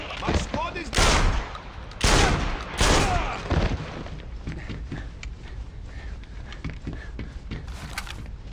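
Bursts of gunfire in the James Bond 007: Blood Stone video game during a firefight at a refinery, several loud volleys in the first four seconds followed by scattered lighter shots, with voices shouting over the fight.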